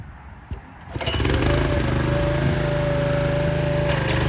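A ZK drilling rig engine sputters, then catches and roars up to a loud, steady running drone, close by, with no voices.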